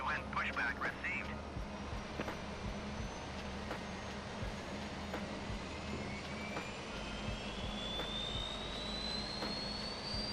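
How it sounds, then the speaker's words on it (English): An Airbus A320neo's APU spools up in Microsoft Flight Simulator, a steady turbine whine rising gradually in pitch over a low continuous rumble, with brief cockpit clicks throughout. "Hear the APU coming up."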